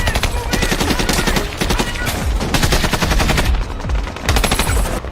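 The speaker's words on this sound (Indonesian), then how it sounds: "Dan baku tembak pun tak dapat dihindarkan lagi." Rapid bursts of automatic gunfire rattle loudly and continuously in a firefight, overlapping shots from several weapons in a close, chaotic exchange.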